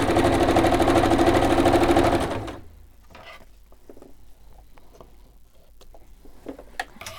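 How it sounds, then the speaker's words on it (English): A sewing machine stitches fabric in a loud, fast, steady run for about two seconds, then stops, leaving only faint clicks and handling noises. "I'm going to stitch across this bit here"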